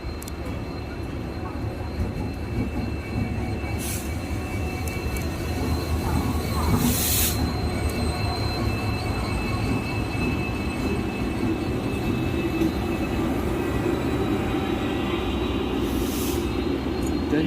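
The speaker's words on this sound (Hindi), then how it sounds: "तो चलिए करमाली तेजस जो आती है मैं उसकी क्रॉसिंग दिखाता हूँ" The Karmali Tejas express train passes through an Indian Railways station crossing with a steady, close rumble of wheels on rails, broken by a few brief metallic squeals.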